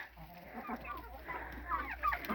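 Chickens clucking in a farmyard as they are brought feed of porridge and bread on a cold winter day, a cluster of soft fowl calls close by over a low background hum.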